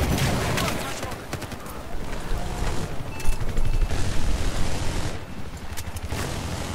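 Dense gunfire in the video game Battlefield 4: rapid automatic bursts and booming shots roll on without a break over a rumbling battle backdrop, with a voice talking now and then.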